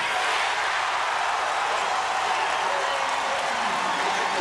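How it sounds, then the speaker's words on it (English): A basketball arena crowd roars steadily at a 1990 VCU at ODU game as the VCU lead shrinks, a dense sustained wash of cheering and applause with no letup. "this crowd, which had been silent for the most part tonight, now making a lot of noise"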